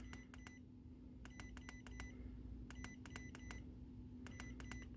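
An iCarsoft CR Pro+ multi-brand car diagnostic tablet beeps in quick rhythmic clusters, four groups of sharp electronic bleeps over a low constant hum.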